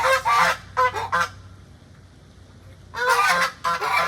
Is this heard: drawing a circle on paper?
no